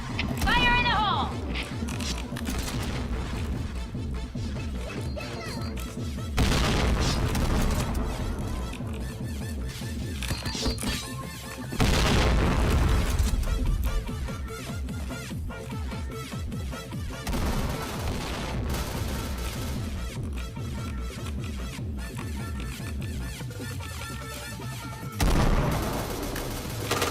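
Grenade blasts and rapid gunfire in a video game come in loud bursts and booms, with fire pausing between volleys. Voices call out over the battle.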